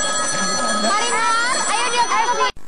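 A telephone rings with a repeating electronic warble, fairly loud, with voices talking over it before it cuts off abruptly.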